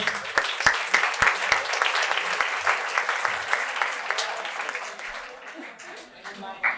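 Applause from a group at a podcast event, with a few sharp individual claps standing out at the start and voices mixed in, slowly thinning out toward the end.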